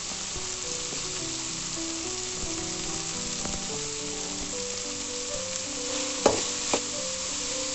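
Carrots stir-fry for egg fried rice in a continuously sizzling pan, with steady frying hiss and a couple of distinct utensil scrapes toward the end.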